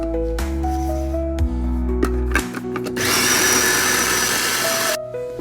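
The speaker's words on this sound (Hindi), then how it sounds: "मैं इसको किसी चॉपर में डाल के ब्लेंड या चॉप कर लूँगी" A food chopper whirs loudly as it blends cooked tomatoes into paste for an aloo chicken curry, coming in with a steady harsh grind after a few seconds of tonal noise, close and continuous before cutting off near the end.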